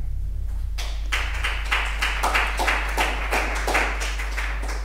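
A party crowd at Die Linke's New Year kickoff claps for a party leader after a speech, with strong, rhythmic claps falling in a steady, almost unified beat over a constant low electrical hum.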